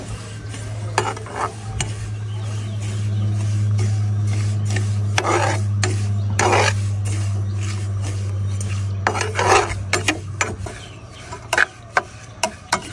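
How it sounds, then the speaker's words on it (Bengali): Sesame seeds are dry-roasted without oil in a pan on the stove, a low steady hum beneath repeated scraping and rasping strokes as the seeds are stirred, growing sparser and clattering near the end. "তেল ছাড়া ঘষে রাখা তিলগুলো সুন্দর মতন ভেজে নেব।"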